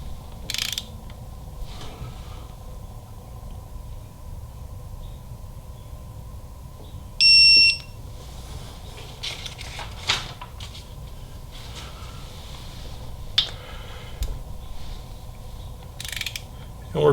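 A torque wrench tightens bolts on a Harley-Davidson Milwaukee-Eight engine during a cam install, giving scattered metallic clicks and ratchet sounds over a steady low shop hum, with one brief high tone partway through.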